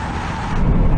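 A Porsche 911 Turbo S and a Porsche Taycan Turbo S accelerate hard in a drag race, a brief, loud, close-up rising engine and road roar.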